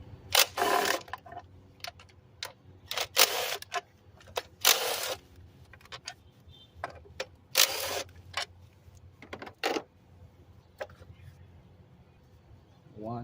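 Removing 10mm bolts from the engine cover of a 2008-13 Honda Accord with a misfire: irregular bursts of close mechanical clicking and tool ratcheting separated by quiet gaps, with occasional faint talk.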